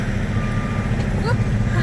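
A truck's reversing alarm beeps steadily while backing up a trailer at a scrapyard weigh scale, loud and close over a rumbling diesel idle, with faint voices in the background.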